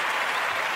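Steady, loud clapping from an excited church crowd, a dense unbroken wash of applause filling the whole short stretch with no voices over it.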